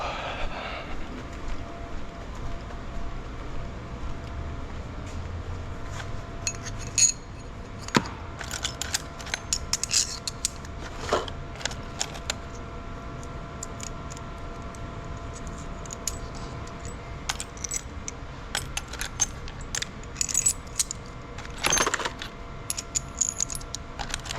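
Small metal washers clinking and tapping onto bolts during an LQ9 engine teardown in a garage, a long run of scattered sharp metallic ticks and light jangles with brief clatters, no talking.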